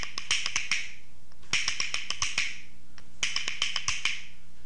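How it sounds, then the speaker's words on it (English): Rhythm bones clacking out three quick bursts of seven sharp taps each, with the accents shifted within the group; crisp, close and dry, with short pauses between the phrases and no voices. "If we change the location of the accents in that 7-tap group"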